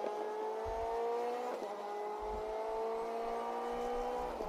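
A DTM race car in the video game DTM Experience laps the Hockenheim circuit in sixth gear, giving a steady, high, whining engine drone with faint low thumps underneath.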